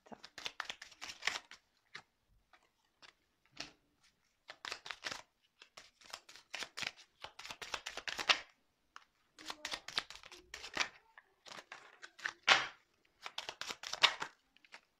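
A large deck of tarot cards is shuffled by hand in repeated short bursts of papery riffling and flicking, close and crisp, separated by brief quiet gaps.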